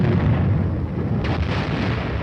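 Air bursts from a battalion of 105mm howitzers: a dense, continuous rumbling roar of overlapping blasts, loud and steady, with one sharper burst cutting through midway; no voices.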